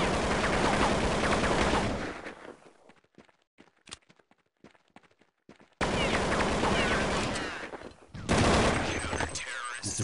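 Gunfire in the video game Counter-Strike comes as dense, loud bursts of rapid shots, separated by a quieter stretch of scattered single shots and footstep-like clicks before the heavy firing resumes.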